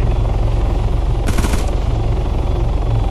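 A quick burst of automatic gunfire in a video game rattles out for a fraction of a second over a loud, constant engine-like rumble that fills the whole moment.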